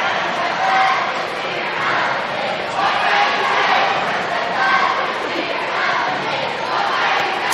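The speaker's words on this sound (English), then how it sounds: "Nice crowd on hand here." A dense, continuous roar of crowd noise and a student section cheering at a high school boys basketball game in the Belgrade event center, loud and sustained with overlapping shouts and voices throughout.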